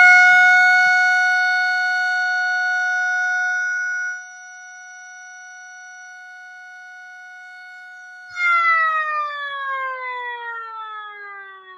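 A mini mechanical siren, a 3D-printed STH-10, holds a steady high wail, drops in pitch, then briefly swells before winding down with a slowly falling tone.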